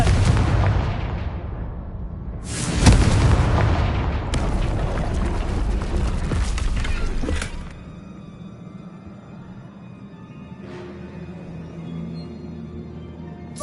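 In Hogwarts Legacy, a Confringo spell fires and a loud, heavy explosion follows, with a sharp boom and a rumbling blast that rolls on for several seconds before fading into quieter game ambience.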